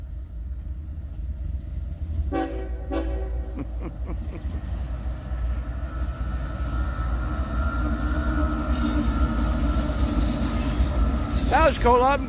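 A CSX freight train, likely a manifest or intermodal, passes loudly and close on rails near Boughtonville and Greenwich, with a steady rumble, rhythmic wheel clicks and squealing wheels rising toward the end.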